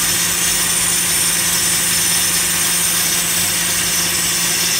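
A 2000 Lincoln LS engine idling, heard from underneath the car, gives a loud, steady close-up drone with a constant hum and rattling texture that does not let up.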